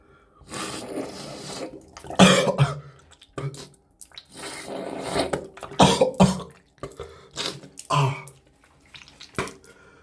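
Repeated wet nasal sniffs and snorts during a sinus nasal rinse, with gurgling water and coughing sputters in bursts, close up.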